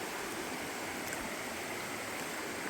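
A river running muddy after a night of heavy rain rushes steadily as a constant broadband wash, close and unbroken, with no voices over it.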